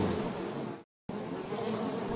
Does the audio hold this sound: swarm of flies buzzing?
yes